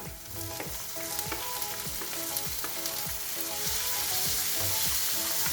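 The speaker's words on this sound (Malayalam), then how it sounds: "നമുക്ക് ഇതിലേക്ക് കട്ട് ചെയ്ത് വെച്ചിരിക്കുന്ന തക്കാളി ഇട്ട് കൊടുക്കാം." Chopped tomatoes sautéed in a pan with golden onions for kadala parippu masala, a steady close sizzle and frying hiss with repeated scraping stirs at a regular rhythm, growing slightly louder toward the end, no talking.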